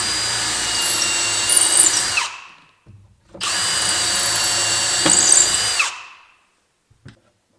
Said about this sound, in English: all my holes are drilled at the perfect distance and perfectly square.